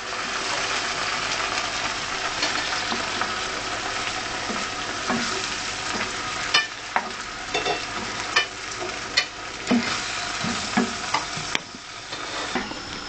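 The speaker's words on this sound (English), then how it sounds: "just add a can of chopped tomatoes and continue to stir" Onions and canned chopped tomatoes fry in a pan with a steady, close sizzle, while a utensil scrapes and stirs through them in irregular knocks, growing sharper toward the end, with no talk.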